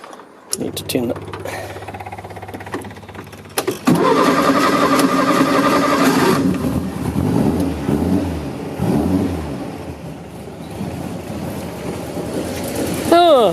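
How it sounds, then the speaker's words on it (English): Car engine cranking, catching and settling into a steady idle, loud and close, with a few brief revs and some talking over it. "We'll go give it a start up and see if it idles a bit better."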